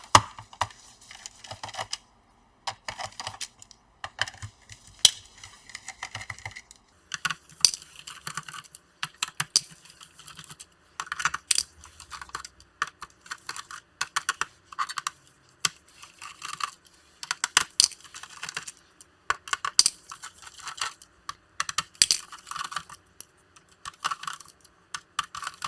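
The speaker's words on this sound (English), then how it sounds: "we have to take out all the screws" Screws come out of the back cover of an HP laptop in a long run of small, irregular clicks, taps and scrapes. The sounds are close and sparse, with occasional louder ticks and short pauses between them.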